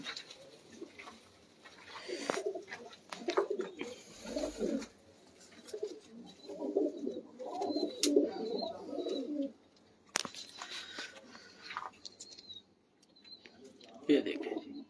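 Breeder pigeons coo in soft repeated bursts close by, their low throaty calls rising and falling while someone talks over them and occasional rustles and clicks sound in the background.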